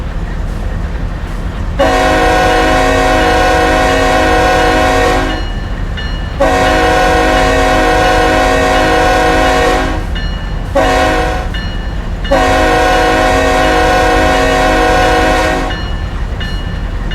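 A GP38-2 diesel locomotive in Train Sim World 6 on Horseshoe Curve sounds its horn in three long, loud blasts and one short one, over a steady rumble of the engine and the rolling train.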